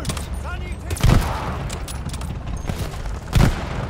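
Gunfire in the Call of Duty Vanguard video game campaign comes as two loud booming shots about two seconds apart over a busy battle soundscape, with voices talking around them.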